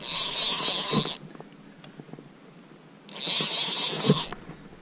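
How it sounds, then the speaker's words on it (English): A fishing reel's drag screams in two loud bursts as line pays out while fighting a bass, with a quieter pause of water and handling noise between the runs. "Listen to that reel."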